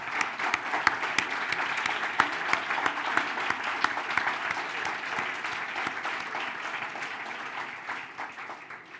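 An audience at a talk and dialogue event on education bursts into sustained, dense applause that holds steady and fades slightly near the end.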